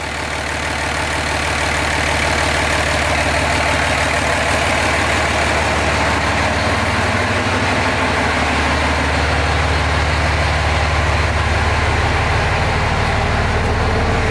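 A Cummins diesel engine swapped into a Ford F-350 idles steadily and loudly, a continuous rumbling drone with no talking.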